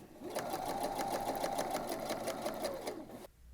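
Sewing machine stitching along a circle skirt waistband; a fast, even rhythmic chatter of needle strokes, close and steady for about three seconds before stopping.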